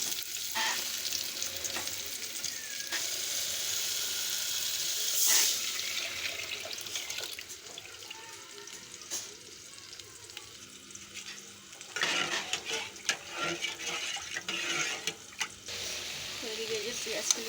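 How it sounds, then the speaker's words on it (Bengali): Steady sizzling of onion, dried chili, garlic and fenugreek frying in a pan, with occasional stirring scrapes and a soft voice speaking now and then. "ভাজা হচ্ছে"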